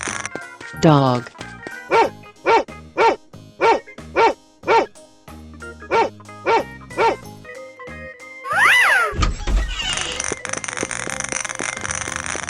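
A dog barks repeatedly in a 3D animal slide video game, a string of about a dozen evenly spaced loud barks, followed by other game sound effects.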